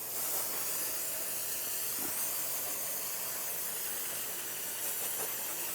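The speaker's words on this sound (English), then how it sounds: "Just take a little brake parts cleaner." Brake parts cleaner sprayed onto brake dust at the rear brakes of a 2009-2013 BMW 328i xDrive, a continuous close aerosol hiss that holds steady for several seconds.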